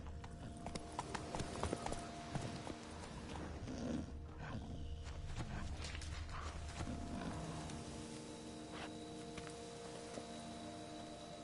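Hooves clip-clop steadily as Geralt's horse Roach trots in The Witcher 3: Blood and Wine, the rhythmic footfalls close and continuous over a low game ambience and music bed.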